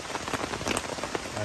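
Rain patters loudly on a tent or tarp at a mountain campsite on Gunung Slamet, close drops hitting in quick irregular taps over a steady hiss, with no voices.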